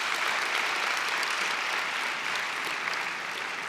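Graduates and guests applauding at a university commencement address, a steady, thick roar of clapping from a large crowd that stays even and full throughout.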